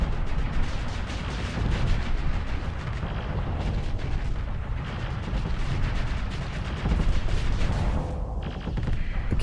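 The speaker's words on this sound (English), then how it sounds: "That's a lot of shooting you're doing" Ship weapons firing in Starsector, a continuous dense barrage of rapid shots and booming impacts that stays loud throughout.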